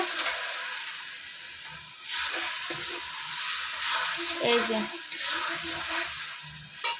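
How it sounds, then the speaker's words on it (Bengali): Chicken browning in spice masala in a pan makes a loud hissing sizzle that rises and falls in bursts, with clanks of stirring. "দেখো এই যে চিকেন দেওয়া হয়ে গেছে, কষানো হচ্ছে"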